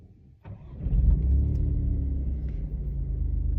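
An Alfa Romeo Giulia Quadrifoglio Verde pulls away in its neutral drive mode: a faint idle, then a sudden deep engine rumble that swells and holds as the car gets moving, heard from nearby with no talk.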